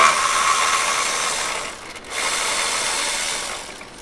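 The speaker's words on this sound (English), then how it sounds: "I use the Milwaukee cordless for that." A Milwaukee cordless ratchet runs on a bolt inside a 2001 Chrysler 300M engine bay. A continuous, fairly loud buzzing whir dips briefly near the middle, then carries on close by.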